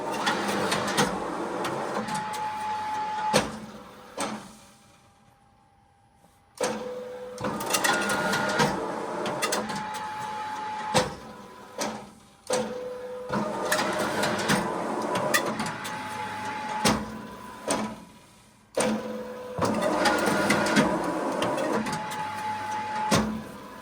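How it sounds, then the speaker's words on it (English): An orbital ring tape sealer at an e-commerce packing station wraps a parcel box in tape, whirring mechanically in repeated cycles with brief pauses and clunks between them and a rising whine. No one speaks. "we have to band it back up with tape afterwards"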